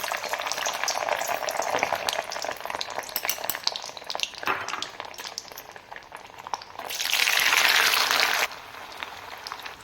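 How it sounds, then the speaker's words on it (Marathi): Paneer pieces frying in hot oil for veg pulao, a steady close sizzle with bubbling and stirring that swells louder for a couple of seconds near the end, no talking. "आता आपण त्यामध्ये पनीर तळून घेऊया"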